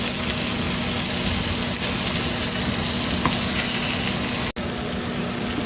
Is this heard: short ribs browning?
yes